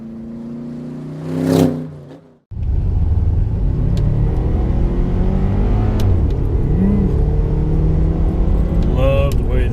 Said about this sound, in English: Sweet sound of a boxer motor starting up